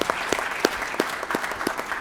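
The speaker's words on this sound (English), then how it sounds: "So round of applause for these guys, please." Audience clapping at a school board of education meeting, a brief round of scattered, moderately close claps without talk.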